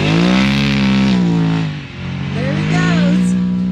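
Polaris RZR Pro XP side-by-side with a slipping clutch on sand dunes, its engine droning loud and steady with a brief dip in the middle, close by, a voice faintly audible beneath.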